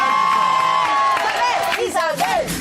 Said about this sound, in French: Applaudissements. Très solennels.